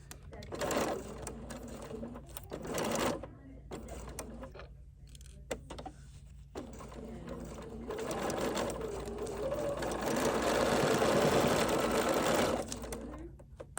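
A sewing machine fitted with a 97D quarter-inch foot and dual feed stitches in several runs, stopping and starting, its motor hum building toward a longer steady stretch near the end, with faint handling noises between.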